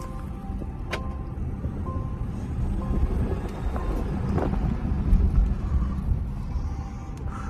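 A car rolls along while being driven, its low engine and road rumble steady throughout, with wind buffeting the microphone and a few faint clicks and rattles from inside the cabin.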